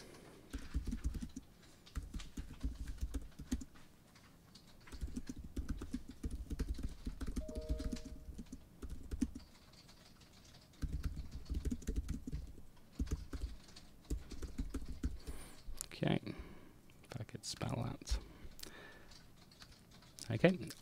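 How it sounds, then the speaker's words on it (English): Someone types a comment on a computer keyboard, with bursts of rapid close key clatter separated by short pauses and a few sharper clicks near the end. "I can write a comment on here."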